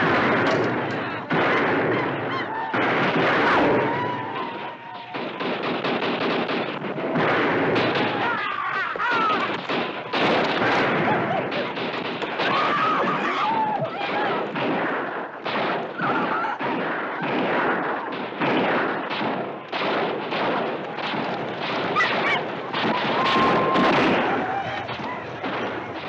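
Dense volleys of gunfire from a western cavalry-era shootout, shots cracking in rapid, overlapping bursts for the whole stretch, loud and close with shouting voices mixed into the din.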